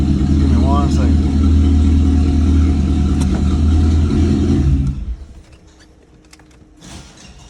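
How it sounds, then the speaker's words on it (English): A Corvette's engine runs with a loud low rumble and revs slightly while being parked, then cuts off abruptly, leaving quiet ambience; someone talks over it. "I'm gonna go ahead and get this car parked"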